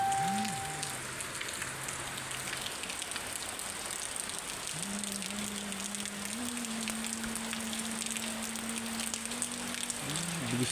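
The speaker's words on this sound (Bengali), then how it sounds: "দেখেন, প্রচুর বৃষ্টি হচ্ছিল, ভালো বৃষ্টি হয়েছে," Heavy rain falls steadily in a village in Bangladesh, a constant hiss of drops on surfaces. A quieter voice speaks in the background.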